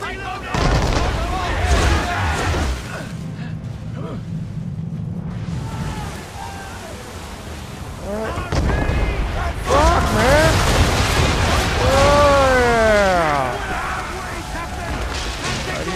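Naval cannon fire in Assassin's Creed III during a ship battle, with heavy booms and rumbling amid game music and a commanding voice.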